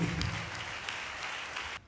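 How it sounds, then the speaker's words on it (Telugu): Church congregation clapping loudly together, a dense steady wash of applause that holds evenly for nearly two seconds before cutting off abruptly. "చప్పట్లు కొట్టి దేవుని మహిమపడతాం గట్టిగా"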